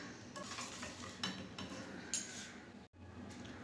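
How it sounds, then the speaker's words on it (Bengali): Spice paste being mixed with salt for hilsa fish: a spoon quietly scraping and stirring in a bowl, with a few soft clinks against the side, faint and close, with no talking. "দিয়ে ভালো করে পেস্টটাকে মিক্সড করে নেব।"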